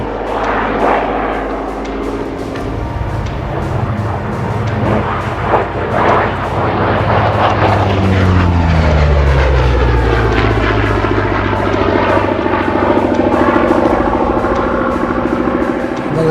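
A Hawker Sea Fury T.20 flies past with a loud, rough piston-engine roar. It builds as the plane approaches, then the pitch sweeps downward as it passes close overhead and recedes, with a sustained drone throughout.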